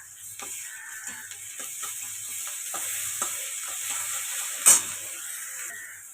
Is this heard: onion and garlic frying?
yes